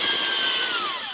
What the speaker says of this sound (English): I hold the drill on a medium speed constantly just to keep it moving